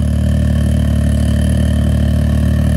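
A Ford Maverick engine hums steadily with a low, continuous drone while driving, and a faint rattling runs through it throughout.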